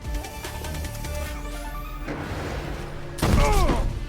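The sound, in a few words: gunfire from teppo guns in the video game Assassin's Creed Shadows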